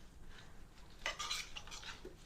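Pumpkin manicotti filling with chopped spinach being mixed in a bowl, a brief burst of utensil scraping and clinking against the dish, fairly quiet and close, with no talking.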